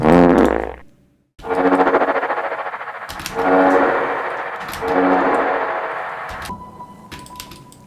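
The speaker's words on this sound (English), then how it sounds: "someone in the world who compiled all of the most famous fart sounds and uploaded a video" Compilation of famous fart sound effects, several long loud raspy blasts back to back with brief gaps, ending in a shorter sputter and quieter trailing noises.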